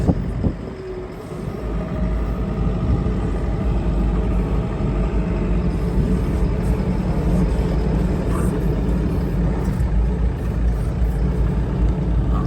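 A farm vehicle drives round to a pig feeder, its engine and tyres making a steady, loud low rumble from inside the cab that holds constant throughout.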